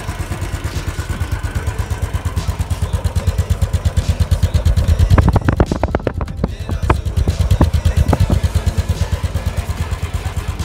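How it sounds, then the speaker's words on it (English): A brand new Royal Enfield Thunderbird 500 motorcycle with a stove-style exhaust runs near the microphone, its thumping single-cylinder beat steady throughout and briefly revved louder around the middle. "My brand new Royal Enfield Thunderbird 500."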